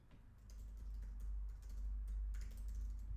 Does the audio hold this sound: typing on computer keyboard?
yes